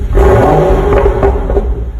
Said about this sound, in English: As you can see, the engine's now running